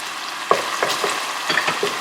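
Soft sizzling of garlic and ginger paste frying in a pan for daal makhani, with several scraping stirs in quick succession.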